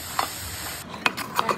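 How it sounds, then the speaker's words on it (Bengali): Rice frying in a pan is stirred with a ladle, giving a few quick close scraping strokes over a soft sizzle across a very short stretch. "চাল ভাজা হয়ে গেছে"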